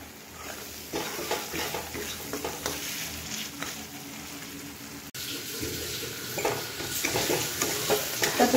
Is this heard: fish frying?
yes